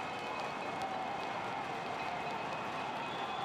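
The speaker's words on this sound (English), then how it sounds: "Crowd rumbling their feet here at Papa Murphy's Park" A stadium crowd at a soccer match at Papa Murphy's Park rumbles their feet in a continuous dense roar, steady and loud throughout with no distinct individual stamps.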